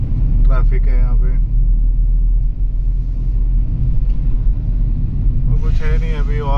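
Car crawling slowly through dense traffic on a road under construction between Jaipur and Mumbai, a low constant engine rumble close by, with someone speaking briefly near the start and end.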